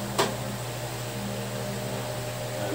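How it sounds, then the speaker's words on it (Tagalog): A noisy electric fan runs indoors at home, giving off a faint, steady hum with a constant drone. A single brief click sounds near the start. "Medyo maingay po yung electric fan."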